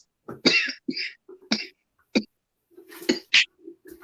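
Several sharp coughs in quick succession, close and fairly loud, with short gaps between bursts and a final throat-clearing hack.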